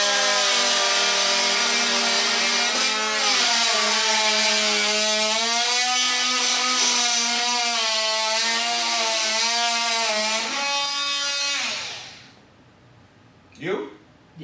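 An oscillating multi tool, DeWalt or Makita, cutting through 1/4 inch Spax lag screws: a loud, close, sustained buzzing whine wavering in pitch, then stopping, followed by a brief noise.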